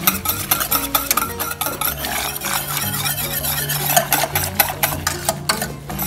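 Kharak drink being stirred in a pot over a low fire, with repeated metallic scraping and squeaking strokes in an uneven rhythm, close and fairly loud.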